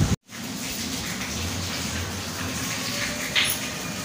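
Heavy rain pours steadily outside a house, a dense, even hiss that runs the whole time with no talking over it.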